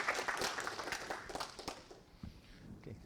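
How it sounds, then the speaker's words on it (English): Applause from a tech conference audience welcoming a speaker to the stage, a dense wash of many hands clapping that is fairly quiet and distant and thins out toward the end. "So big round of applause."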